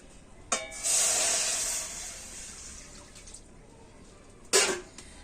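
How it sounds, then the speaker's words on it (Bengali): Water poured into a wok set on a lit stove, a steady close splash and hiss lasting about a second, then a second short pour near the end, with no talking. "কড়াতে আমি এখন দিয়ে দেবো জল"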